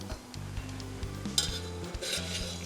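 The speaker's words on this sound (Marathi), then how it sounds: "सांडगा आता इथं छान खरपूस तळून घेतलेला आहे तो आपण काढून घेऊ आता" Homemade chana dal sandga (lentil dumplings) deep frying in oil, a soft continuous sizzle with light clinks and scrapes of a ladle, set against a low steady background hum.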